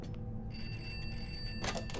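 Telephone ringing in the horror video game Pineview Drive, a single brief electronic ring tone over a low ambient hum, fairly faint and without speech.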